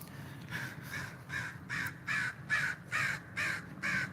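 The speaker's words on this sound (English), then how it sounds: "check out that bird" Crow cawing outdoors in a steady series of about nine harsh calls at regular intervals, moderately near, over faint background noise.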